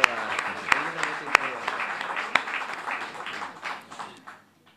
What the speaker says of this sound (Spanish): le mando un fuerte aplauso